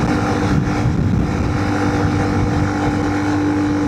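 Big bore Honda CRF300L rally motorcycle climbing a hill at around 60 mph, its engine holding a steady droning hum under heavy wind rush, with no break in the sound.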